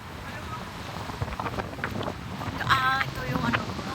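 Strong wind buffets the microphone outdoors during a stormy typhoon gathering, a constant low roar with gusts swelling louder toward the end, under scattered voices.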